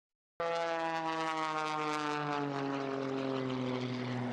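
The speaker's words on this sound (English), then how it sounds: "planes gave a show in the skies over Scott Air Force Base" Blue Angels jets flying in an airshow over Scott Air Force Base: a loud engine roar starts abruptly and holds steady with a strong whining drone that slowly falls in pitch as the planes pass.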